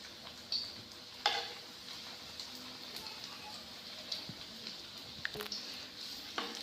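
Bread pieces for shahi tukre are placed one by one into hot ghee in a pan, producing a soft, steady sizzle with occasional light taps and clicks, fairly quiet and close.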